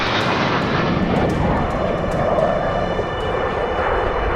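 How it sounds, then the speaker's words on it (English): Piston engines of B-17 Flying Fortress bombers drone in a loud, steady, dense roar, continuous throughout with no voices. "the formidable B-17 flying fortresses ascended methodically into formation, their collective drone filling the skies"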